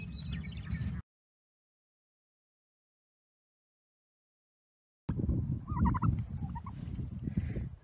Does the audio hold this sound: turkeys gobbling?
yes